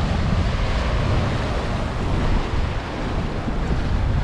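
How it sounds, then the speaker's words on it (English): Strong wind buffets the microphone at a rocky coastal viewpoint near Tulum, Mexico, with Caribbean Sea surf rumbling below in a loud, steady roar. "Caribbean Sea."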